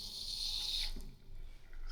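Tap water runs steadily into a modern bathroom sink as a close, even hiss that cuts off about halfway through, leaving a quieter room tone.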